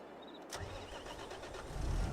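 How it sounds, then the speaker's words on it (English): Tractor engine in the Farming Simulator video game cranking and catching, a sharp starter burst followed by a low running rumble that grows louder near the end, with no talk. "Oh, now we got engine sound."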